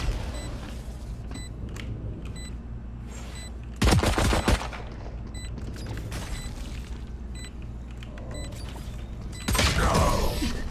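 Gunfire in the tactical shooter Valorant: two loud, sharp shots a few seconds apart rise above a steady bed of game noise and ticking mechanical sounds.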